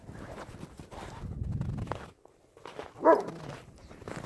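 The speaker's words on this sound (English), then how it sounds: "Somebody's dog." A dog on a snowy nighttime hike gives a short bark or two, then after a quiet gap lets out a sharper, louder bark, with rustling movement around it.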